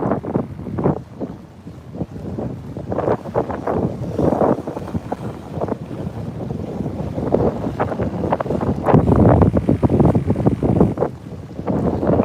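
Choppy saltwater slaps against a small fishing boat on a windy bay in Texas, with gusts buffeting the microphone and irregular splashes rising and falling close by.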